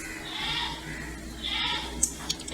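Two faint sheep bleats drift up over a low ambient hum in a virtual outdoor environment, followed by a couple of soft clicks.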